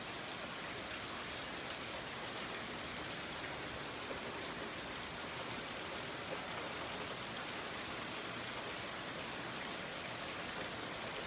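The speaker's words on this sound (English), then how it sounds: "it always rains here at night" Rain falls at night in a light shower turning to downpour, a steady, even hiss of drops on surfaces with occasional sharper close drips, no voices.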